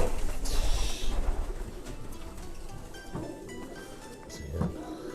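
Inside an English loft, racing pigeons give low, rolling coos, several birds overlapping at close range with scattered wing shuffles and a steady rustling background.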